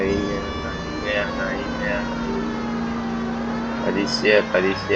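A police siren in the L.A. Noire video game wails with a steady, sustained tone beneath loud, continuous talking throughout.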